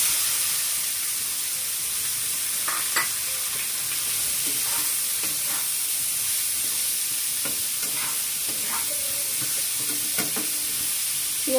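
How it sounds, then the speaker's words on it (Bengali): Chopped onions fry in a pan for an egg bhuna, making a loud, steady hiss and sizzle throughout. Occasional soft clicks and scrapes of stirring come through close by, with no talking. "পেঁয়াজটাকে ভালো করে ভেজে নিব।"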